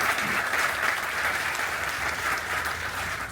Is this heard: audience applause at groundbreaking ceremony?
yes